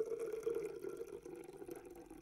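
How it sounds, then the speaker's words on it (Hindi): Water pours steadily from a filled pyramid-shaped container into a prism during a geometry volume demonstration, a continuous close, fairly quiet splashing stream lasting a couple of seconds with no talking. "ये हमने इसमें ऊपर तक पानी भर के लिया और इसे हम प्रिस्म में उड़ेलते हैं"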